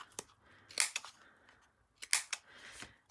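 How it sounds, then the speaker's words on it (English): Scissors snip the corners off a small paper tag, giving a few sharp, crisp cuts in two close pairs with short quiet gaps between them, close and fairly quiet with no talking. "I'm going to cut the corners"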